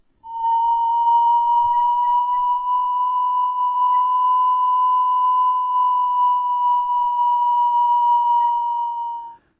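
A radar Doppler target audio signature from a Blighter radar: a steady pure electronic tone holds at one pitch for about nine seconds, loud and unbroken, with faint harmonics above it.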